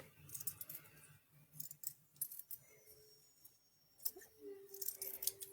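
Scissors trimming fabric for a sewing craft, a few soft snips and rustles up close, with faint background noise and a brief tone.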